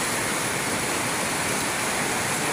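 A swollen river rushes loudly behind a house during Super Typhoon Carina, a dense, unbroken roar of churning floodwater that stays steady and close with no voices.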